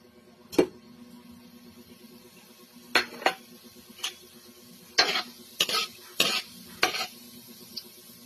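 Annatto (atsuete) seeds fry in a pan while cooking bopis, a quiet low sizzle broken by several sharp clinks and scrapes of a spatula against the pan.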